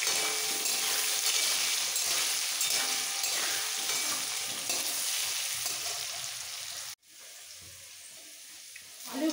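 Potato pieces seasoned with salt and turmeric fry in oil, a loud steady sizzle that cuts off abruptly, leaving a quiet pause before faint kitchen sounds return.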